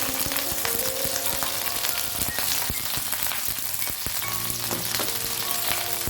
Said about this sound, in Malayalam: വെളിച്ചെണ്ണ ചൂടായി വരുന്ന സമയത്ത് 1/2 ടീസ്പൂൺ കടുക് ഇട്ട് കൊടുക്കാം